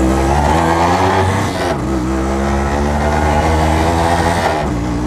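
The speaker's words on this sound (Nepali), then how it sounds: "आज खोइ के हो, त्यति कुदिरहेको छैन क्या यो बाइक" A modified Yamaha RX 100 two-stroke motorcycle revs steadily and loudly during a ride through an alley in Nepal, its engine note dipping briefly midway before climbing again, with no talking.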